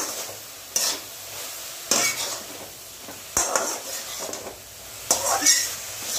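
Tender leafy greens stir-fried in a karahi with mustard oil: steady sizzle under repeated scraping strokes of a spatula against the pan, about five distinct stirs, close and moderately loud.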